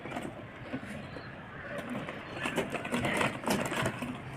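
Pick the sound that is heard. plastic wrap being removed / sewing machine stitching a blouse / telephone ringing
sewing machine stitching a blouse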